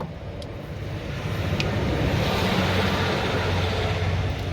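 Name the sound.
model train set running in the background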